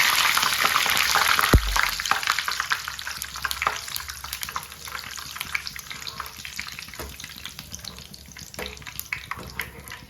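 Peanuts frying in hot oil for homemade Kerala-style mixture give a dense, steady sizzle and crackle throughout, with a sharp knock of a utensil early on and light stirring scrapes.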